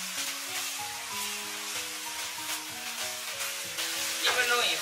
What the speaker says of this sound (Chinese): 然后小火给它焗一分钟， 让它充分的吸收调料的味道